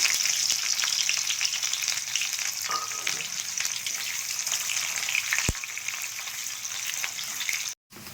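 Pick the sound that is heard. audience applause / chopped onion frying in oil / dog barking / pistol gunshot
chopped onion frying in oil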